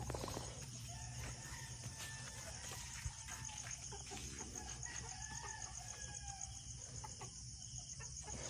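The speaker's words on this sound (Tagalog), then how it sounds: "May mga manok pa." Chickens cluck and a rooster crows in the distance over a steady outdoor background hum in the Philippine countryside, with scattered bird calls throughout.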